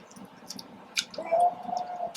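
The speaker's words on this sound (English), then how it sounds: "you have to pour it on the chicken for me" Hot sauce poured onto chicken tacos: a brief soft squish and a short liquid drip, close and quiet, with faint clicks around it.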